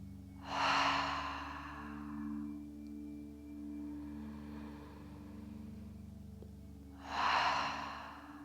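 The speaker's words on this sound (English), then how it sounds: "To end the practice, let's take 3 exhales, 3 letting go of breaths." Two slow, audible breaths exhaled out through the mouth during a guided alternate nostril breathing meditation, one early and one near the end, each a soft rushing sigh separated by a long quiet pause over a low steady hum.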